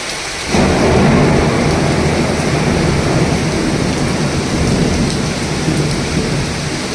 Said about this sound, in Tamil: சென்னை உட்பட தமிழகத்தோட பல இடங்களில் பரவலாக மழை பெஞ்சதில் நீர் தேங்கின காட்சிகள் நிறைய இருந்திருக்கும்ல அதெல்லாத்தையும் இப்போ பாருங்கள்